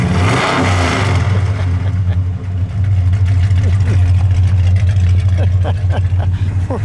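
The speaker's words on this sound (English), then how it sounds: "Andre, give it a rev, please. One more good one." A 1965 Dodge Coronet 500 convertible's engine rumbles loud and close, with a deep steady idle broken by a rev that rises and falls, and brief voices at the start.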